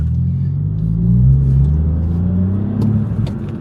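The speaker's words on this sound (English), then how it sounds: "There is a nice little burble there, but it's not M140 or M2." A BMW 218i F22/F23 with a modified exhaust revs with a low, rumbling burble, rising and falling steadily up close with no talking.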